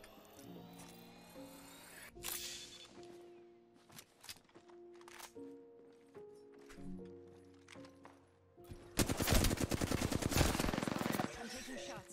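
Video game gunfire in a pub match: a few sharp scattered shots, then a loud rapid burst of automatic fire near the end over game background noise.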